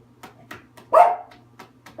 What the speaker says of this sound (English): the neighbor's dog is out there